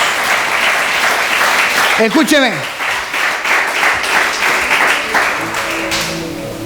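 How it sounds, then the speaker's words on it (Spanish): A church congregation bursts into sustained, loud applause, with dense clapping carrying on throughout and a speaking voice briefly cutting through partway. "Un aplauso a Jesús."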